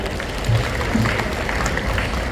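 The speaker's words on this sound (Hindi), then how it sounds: "एक बार फिर से तालियां।" An audience at a school event applauds a student, a short, steady burst of fairly loud, muffled clapping with a low rumble underneath.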